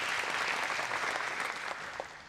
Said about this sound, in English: Another round of applause for Christy.